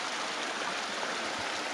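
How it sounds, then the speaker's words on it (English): Meltwater runs beneath avalanche snow debris on a mountain scramble, a soft continuous trickling rush that stays faint and even, with no voices. "the snow debris from avalanche and water running underneath."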